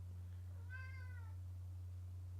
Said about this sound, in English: Sorry, cat interruptions.